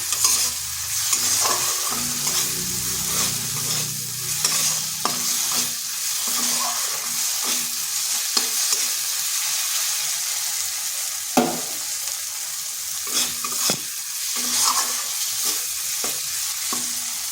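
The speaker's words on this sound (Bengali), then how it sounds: "সাদা সর্ষে আর লাল সর্ষের যে মশলাটা পেস্ট করেছিলাম সেটা দিয়ে দিচ্ছি। এর ভালো করে একটু কষিয়ে নিচ্ছি।" White and red mustard spice paste sautéing in a pan, a soft sizzle under frequent scraping and tapping strokes of a spatula, close and alone.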